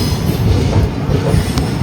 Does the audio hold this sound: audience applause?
no